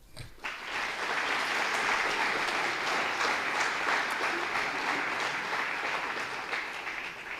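Audience applause at a January 2020 French gathering: a dense, sustained round of clapping from a sizable crowd that swells quickly and stays steady and fairly close for several seconds.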